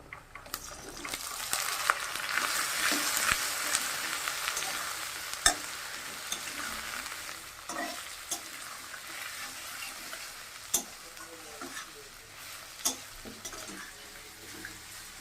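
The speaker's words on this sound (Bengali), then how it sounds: "পেঁয়াজটা আমার হালকা ভাতা হয়ে গেছে আমি আলুগুলো দিয়ে দিচ্ছি" Potatoes added to a pan of lightly fried onions and bay leaf sizzle steadily in oil, with occasional scraping stirs and a few sharp clinks of a spoon against the pan.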